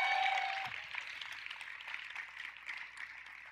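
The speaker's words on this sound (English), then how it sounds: "Everybody give Emily a big round of applause." A church congregation gives a round of applause as a young woman is invited up on stage. The clapping is faint and distant, loudest at the start and then thinning out into scattered claps.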